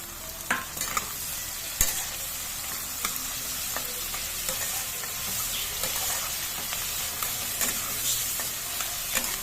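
Chopped green chili and tomato stirred in a frying pan for a mushroom dish: a steady sizzle with frequent scraping strokes and a few sharp utensil knocks, close and continuous, with no talking.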